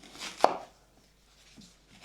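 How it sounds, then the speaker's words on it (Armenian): Knife chopping vegetables for Armenian lahmajoun, onion, tomato, coloured peppers and garlic, on a board. One sharp close cut near the start, then a few faint taps in a quiet kitchen. "միսը աղալուց հետո մեզի անհրաժեշտ է կտրատենք բանջարեղենները"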